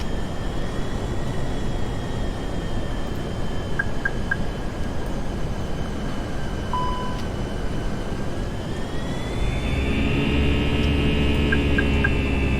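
Aircraft engine thrust surging erratically on approach, a steady droning hum with shifting tones that rises and swells near the end, loud and continuous with no talk.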